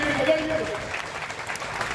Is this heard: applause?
yes